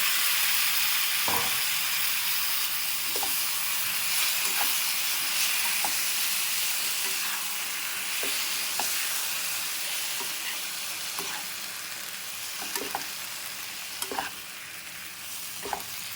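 Tomato paste sizzles in hot tempering oil for a drumstick, tomato and egg curry, with a steady frying hiss broken by periodic scraping taps of stirring.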